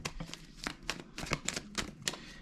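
Tarot cards being shuffled by hand, a series of crisp riffling bursts and soft flutters repeating every half second or so, close and fairly quiet with no talk.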